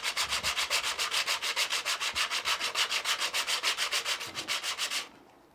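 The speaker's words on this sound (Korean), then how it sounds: "동전만한 나무를 사포에 대고 문지른다" Rhythmic back-and-forth rasping of a coin-sized piece of wood rubbed on sandpaper, about thirty quick even strokes, close and steady, then it stops.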